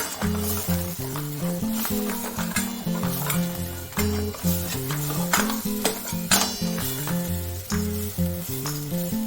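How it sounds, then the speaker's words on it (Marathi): Spice masala for a spicy Maharashtrian golyachi curry is stirred and fried in oil, with a soft sizzle and repeated rhythmic scraping strokes of a spoon in the pan, close, over steady tonal sounds in the background. "तोपर्यंत तेल बाजूला होत नाही तोपर्यंत मसाला परतायचा चांगला"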